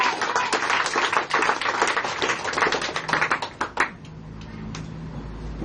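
A church congregation claps steadily and loudly for several seconds at a worship service. The applause thins out and fades into a low hum, leaving only a few scattered claps.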